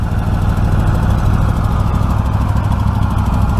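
A 2015 Freedom Z riding lawn mower engine running steadily, loud and close, with a rapid even putter and constant droning rumble throughout.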